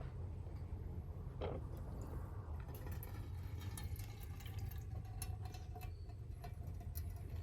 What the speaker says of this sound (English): you take this and pour it through this coffee filter while I hang on to the filter